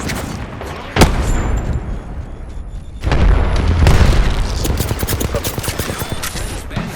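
Video game grenade blast: a sharp boom lands early, followed by a louder, sustained burst of explosive rumble and crackling gunfire-like noise that fills the rest of the stretch.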